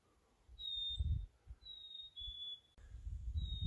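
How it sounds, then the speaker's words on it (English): A couple of sparrows call back and forth along a nature sanctuary boardwalk, thin high whistled notes repeating at intervals over faint low rumble and footsteps. "there's a couple sparrows calling out to each other"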